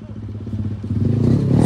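Yamaha R15 V3 motorcycle with an aftermarket exhaust revs up for a wheelie, a close, rising engine note building in loudness with a rapid pulsing rhythm over about two seconds.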